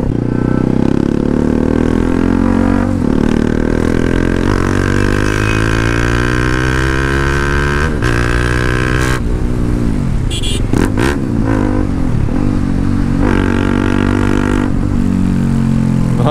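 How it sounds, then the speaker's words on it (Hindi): A single-cylinder motorcycle engine revs repeatedly, pitch climbing and falling in surges over a steady throbbing idle, close and loud throughout. "आप लोग जो अभी आवाज़ सुन रहे हो ना यार इस बाइक का"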